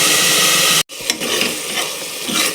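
Loud, steady sizzle of vegetables sautéing in a pan for sambar, briefly cut off, then crackling on with stirring scrapes close by.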